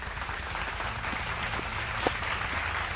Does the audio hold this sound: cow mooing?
no